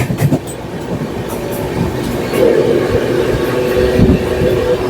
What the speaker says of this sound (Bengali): এখন কিন্তু আমাদের ট্রেন ভালোই যাচ্ছে